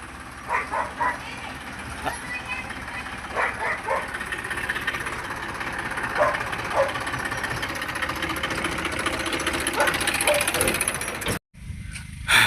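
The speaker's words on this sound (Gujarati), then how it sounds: "તો મિત્રો ટ્રેક્ટર આવી ગયું છે ઘેર" A tractor engine runs at a farm homestead, chugging and knocking loudly up close as it reverses into position, with a rough idling rhythm, a voice talking over it, and a brief cut-out near the end.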